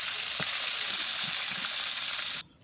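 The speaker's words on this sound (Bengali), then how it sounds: "এখন আমি লবণ ও হলুদ মাখিয়ে সেই পাঁচ ট্যাংরাগুলো দিয়ে দিচ্ছি।" Pach tangra fish coated in salt and turmeric frying in oil, giving a loud, steady broadband sizzle with a few soft stirring knocks, which cuts off abruptly near the end.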